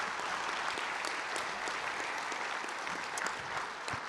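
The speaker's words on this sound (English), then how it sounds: "Give him another round of applause." A crowd at a keynote event applauds steadily and densely, a continuous wash of many hands clapping at even loudness throughout.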